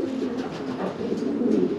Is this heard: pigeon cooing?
yes